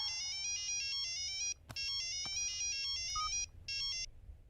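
Mobile phone ringtone for an incoming call plays a bright repeating electronic melody in three loud bursts separated by short breaks, alone without voices.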